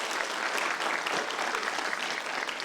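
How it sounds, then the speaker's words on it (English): Audience at a pitch event giving a round of applause, steady even clapping from many hands throughout, moderately distant with no talk over it. "let's give them a good round of applause"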